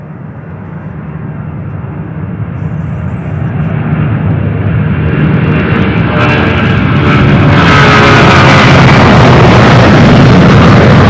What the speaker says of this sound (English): This one here getting ready to take off is off to Portland, Oregon.